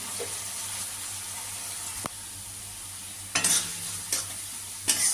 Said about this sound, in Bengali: এবার মশলাটা নেড়ে চেড়ে আমি চিনির বদলে সামান্য গুড় দিয়ে দেব